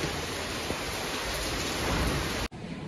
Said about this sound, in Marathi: सध्या एकदम जोरात पाऊस पडायला लागला